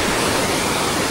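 Tinuy-an Falls pours down in a loud, unbroken roar of falling water, a dense close rush with no pauses.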